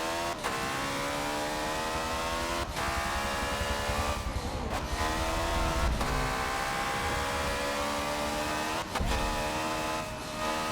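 A street buggy in the racing game Forza Motorsport 7 drones with a steady, loud engine note held at high revs, broken by several sharp gear-change dips and rises.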